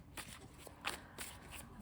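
A deck of tarot cards is riffled and shuffled by hand at close range, soft papery flutters repeating in several quick bursts, quiet and unaccompanied by talk.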